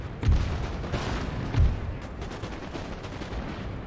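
Cannon and musket fire in an Empire: Total War battle, two deep booming shots over a continuous distant crackle of volleys and battle din.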